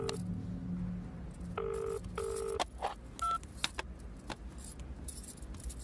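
An outgoing phone call rings back in two evenly spaced tone bursts with a brief higher beep after them, set in a quiet indoor scene from a Kannada romance film.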